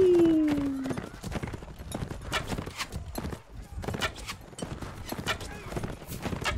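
Rapid hoofbeats of a horse galloping in Mount & Blade Warband, a steady clip-clop rhythm running throughout, opening with a brief whinny, with faint game ambience underneath.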